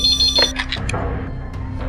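Telephone ringing, a short bright electronic trill at the start followed by a few fainter chirps and tones over a low background, with no speech.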